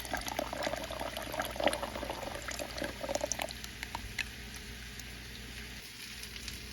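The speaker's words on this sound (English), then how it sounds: "now I am going to be adding the 46 ounces of tomato juice" Tomato juice pours into a soup pot of cabbage beef soup, a bubbly, glugging liquid stream with small splashes that tapers off partway through, leaving quieter room noise.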